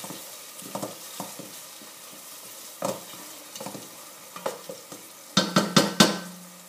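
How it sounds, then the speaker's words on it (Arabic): Medium white onion wilts in a frying pan for lamb nwasser mfawra. A low sizzle runs underneath while a utensil stirs and scrapes at irregular intervals, ending in a quick run of louder clinks and scrapes against the pan. "كان عندكم البصل المدور هذاك الابيض خذوا بصله متوسطه، خلي البصل يذبل شويه"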